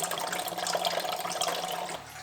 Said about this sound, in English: While the last little bit of coolant drips out